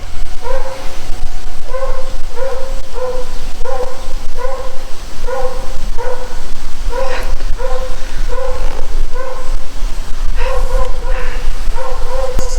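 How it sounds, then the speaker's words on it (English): A dog barks persistently near a garage where a 300ZX is being worked on, repeated loud barks in an irregular rhythm over constant background noise, continuing through the whole stretch. "That dog's not going to stop barking anytime soon"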